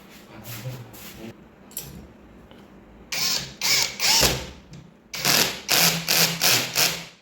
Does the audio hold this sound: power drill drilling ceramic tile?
yes